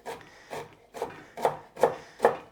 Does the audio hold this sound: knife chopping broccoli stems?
yes